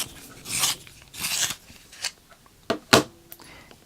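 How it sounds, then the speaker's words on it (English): A dusky pink coloured pencil is turned in a sharpener, giving several short rasping grinds in bursts separated by pauses, close and fairly loud with a few sharper scraping strokes toward the end. "So I'm just going to sharpen my dusky pink."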